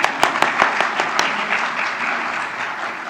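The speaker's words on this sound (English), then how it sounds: "we can give her applause" Applause from mourners at a memorial service for Barbara McClannahan, a steady wash of many hands clapping in the room, with a few sharp individual claps standing out at the start before it settles into an even, continuous patter.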